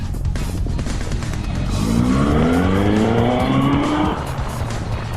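Loud tire squeal from hard braking on a full-carbon Suzuki Hayabusa motorcycle, a rising whine lasting a couple of seconds over a steady engine rumble.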